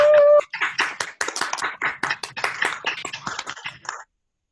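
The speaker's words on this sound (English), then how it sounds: "would you now allow everybody to give a round of applause?" Applause for the speakers at a plenary session, heard as a dense run of hand claps that follows a brief tone and then fades out after about four seconds.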